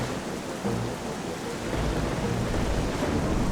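Rain and thunder in the video game Zelda: Twilight Princess HD pour down as a constant dense hiss, with a deep rolling thunder rumble swelling midway and lingering under the downpour.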